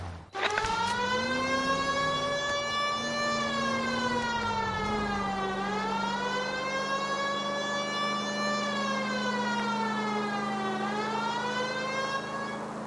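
A police car siren in the video game L.A. Noire wails continuously, its pitch slowly rising and falling in long sweeps, loud and steady with no voices.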